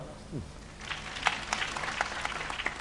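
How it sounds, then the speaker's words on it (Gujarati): An audience at a Gujarati dayro folk performance breaks into steady applause, many hands clapping as a dense wash with sharper individual claps, lasting about two seconds after a brief spoken line. "તાળીઓ પાડો."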